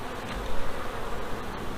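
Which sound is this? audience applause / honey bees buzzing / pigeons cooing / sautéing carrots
honey bees buzzing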